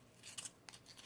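Scissors snip through paper while a folded paper robot is being made, two or three short crisp cuts close by in a quiet room.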